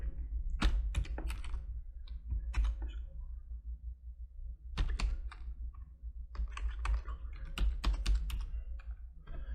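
Computer keyboard typing in bursts of quick close clicks with short pauses between, entering a file name in photo-editing software, loud and alone without speech.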